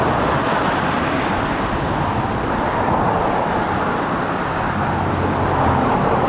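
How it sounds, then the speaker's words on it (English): Continuous road traffic noise beside Loch Ness, a dense steady roar of passing vehicles filling the scene without pause. "that's why there's a lot of traffic noise in the background"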